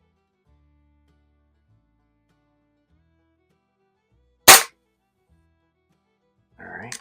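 A single sharp crack from a 10-meter match air pistol, a Feinwerkbau 65 or Baikal IZH-46M, fired indoors at 7 yards. It stands alone in near silence, and a brief low voice follows later.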